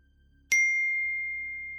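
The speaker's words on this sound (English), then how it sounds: "my phone pinged again." A phone notification ping arriving in a classroom: one bright, clear chime that strikes sharply and rings out with a long, slowly fading tail, alone against a quiet background.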